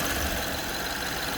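A BMW 550xi F10 V8 fitted with dual intake pipes and air filters with stock mufflers runs at a steady idle, a dense continuous engine rumble close to the car with no talk.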